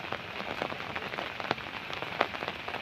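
Steady rain falls on a surface during monsoon flooding, with a dense patter and a few sharper nearby drops striking, no voices present.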